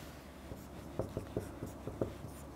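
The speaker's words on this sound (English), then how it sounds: "So, yes, let us write here." Chalk or marker tapping and scraping on a board during a maths lecture, about six short strokes at an uneven pace, fairly close, over a quiet room hum with no talking.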